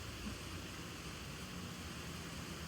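Cleaner sprayed under a Suzuki XL7 car chassis gives a steady, faint broadband hiss that runs without a break for a few seconds.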